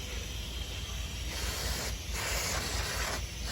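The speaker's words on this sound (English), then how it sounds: "they need to some clean here, WD-40" WD-40 sprayed onto a rusty front wheel hub on a GMC or Chevrolet, a steady close hiss running continuously with slight pulses in intensity, no voices.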